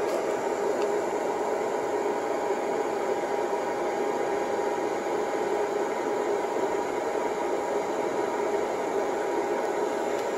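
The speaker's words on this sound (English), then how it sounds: "See if we can get those fans to turn on." Inverter cooling fans in a DIY 48-volt 2 kW solar power station run steadily, a constant whooshing hiss that holds at one level for the whole stretch, fairly quiet and close.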